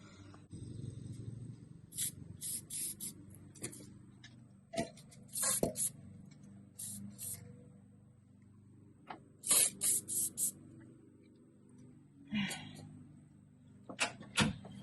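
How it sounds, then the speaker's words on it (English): Repeated short hisses from an aerosol can sprayed during upper control arm work on a 2008 GMC Sierra, several bursts of varying length separated by pauses, with faint clicks and handling noises between them. "Now I'm gonna spray."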